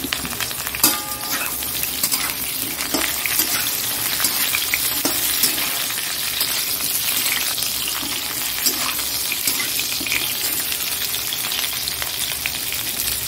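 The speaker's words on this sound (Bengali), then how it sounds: "আলু মশলা ভুজিয়া পটল দিয়ে দিলাম। এবার পটলগুলো দিয়ে দিচ্ছি," Pointed gourd frying alongside spiced potatoes in a pan, a steady close sizzle with occasional stirring scrapes running throughout, no talking.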